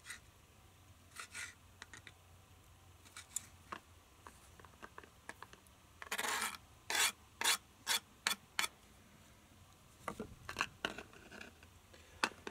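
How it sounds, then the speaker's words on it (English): A kitchen towel wipes up spilled tomato juice on a counter, giving repeated close rubbing and rasping strokes. They come in short bursts with pauses, and a run of quick swipes falls in the middle. No one speaks. "Just a bit of towel to wipe up the tomato juice"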